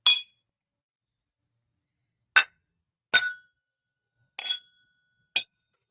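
Glasses clink five times in a whiskey toast, crisp and close, each strike sharp and isolated, with silence between the hits and no voices.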